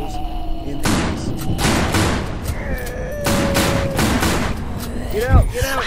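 Shotgun blasts boom repeatedly in a spooky Halloween video game, several loud close shots in quick succession amid other game effects, with a voice talking over them.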